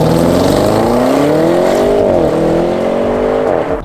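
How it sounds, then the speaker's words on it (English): Audi RS6 Avant with a twin-turbo V8 accelerating hard, a loud, close engine roar whose pitch climbs steadily through the gears with a brief dip at a shift and no talk over it. "it's going to make some pretty awesome V8 sounds while it does it"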